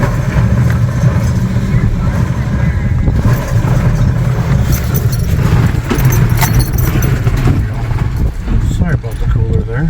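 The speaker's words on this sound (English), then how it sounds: "I'm intentionally on my brake, but I just letting the back tire spin because I'm in two-wheel drive at the moment." An off-road vehicle in two-wheel drive, held on the brake with its rear tire spinning on an obstacle-course mud track, gives a loud, continuous churning and rattling rumble close by, with someone talking over it.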